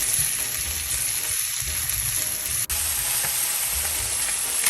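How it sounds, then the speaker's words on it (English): Diced zucchini sautéing in a pan gives a steady, close sizzle and hiss throughout, with a faint stir or scrape partway through. "Now I'm going to be adding the diced zucchini."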